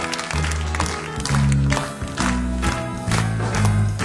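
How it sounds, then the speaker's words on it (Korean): A youth worship congregation in a church claps steadily under loud music with a thumping bass, welcoming newcomers forward. "우리 박수로 인도자와 함께 앞으로 모셔보도록 하겠습니다."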